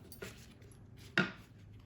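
Scissors cutting the stiff stem of a betel leaf, two quick close snips, the second sharper and louder, against a quiet background with no talk.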